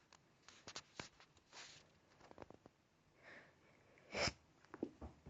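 A single quick sneeze bursts out near the microphone amid quiet room noise and a few small clicks and sniffs.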